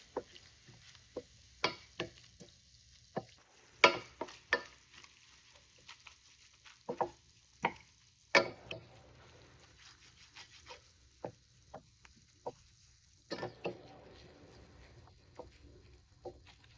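Yogurt kadhi cooks in oil in a pan until the oil separates, giving off scattered soft pops and crackles with quiet gaps between them, close and gentle.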